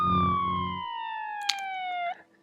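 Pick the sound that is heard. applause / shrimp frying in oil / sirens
sirens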